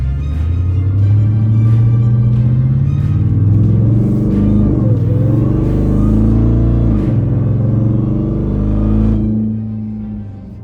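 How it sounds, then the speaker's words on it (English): A loud supercharged Ram TRX pickup truck engine runs and revs steadily with a deep rumble and a faint high supercharger whine riding on top, no talking. "see what the supercharger actually sounds like"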